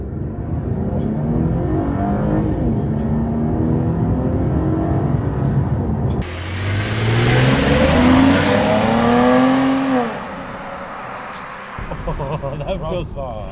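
A 2014 VF Holden Commodore SV6 accelerates hard, its engine note climbing steadily through the revs with a strong surge of louder, rising tone midway, heard from inside the car.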